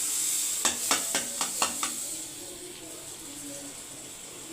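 Butter melting in a hot kadai, a bright hiss punctuated by six quick, evenly spaced scraping stirs, after which the sizzle settles into a quieter steady fizz.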